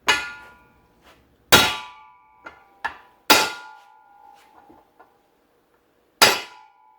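A hammer strikes a drive shaft yoke held in a vise to knock out a U-joint, producing loud, ringing metallic clangs. About four heavy blows fall irregularly among lighter taps, each one echoing briefly.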